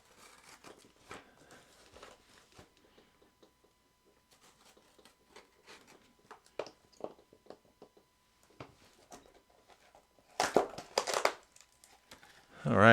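Scattered rustles and scrapes as a stuffed cardboard shipping box for an Aquila frame is opened, ending in a louder burst of crinkling packing material near the close, all near and without talk.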